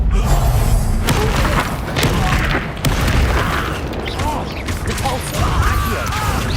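Incendio fire spell cast in the video game Hogwarts Legacy, loud whooshing blasts and thuds amid a busy, dense stream of combat effects and mechanical clanks.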